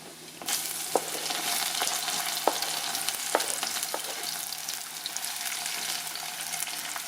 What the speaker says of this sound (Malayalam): എണ്ണ ചൂടായിട്ടുണ്ട്. അതിലേക്ക് ആദ്യം വേണ്ട കടുക് നമുക്കിട്ട് കൊടുക്കാം.